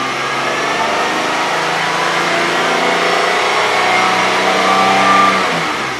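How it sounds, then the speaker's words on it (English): A Kia Sorento with a 3.5-litre V6 revs up after an oil change, a loud, steady mid-range engine roar that rises and holds for several seconds before easing off, with no talk over it. "You know, I always like to rev it up a bit."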